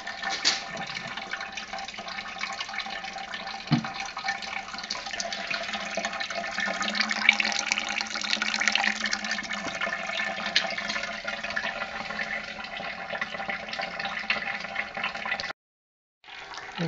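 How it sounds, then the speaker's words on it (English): Second runnings of wort draining into a vessel on a homebrew beer day, a continuous close rush of pouring liquid that runs steadily, then cuts off briefly near the end. "we're collecting runnings number 2"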